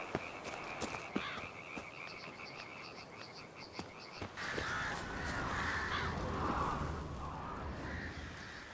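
Crows caw in The Witcher 3: Blood and Wine, harsh repeated calls and croaking sounds over a quiet outdoor ambience, followed by a swelling rush of background noise, with no one speaking.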